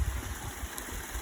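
Agua del Palo, a swollen forest mountain stream on the slope of Manquehue that has washed out a road, flows as a faint, steady hiss with a low rumble beneath, continuous through the short stretch.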